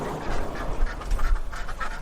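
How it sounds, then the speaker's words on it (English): Ducks quack loudly and repeatedly inside a chicken coop that also houses geese, a close, busy run of overlapping calls with no talking. "We've got ducks and geese in here."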